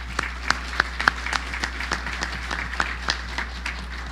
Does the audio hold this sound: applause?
yes